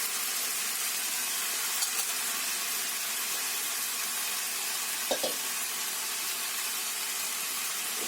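Shredded cabbage and onion sizzle gently in a pan while being stirred, a soft steady frying hiss with a couple of faint scraping clicks, no talking.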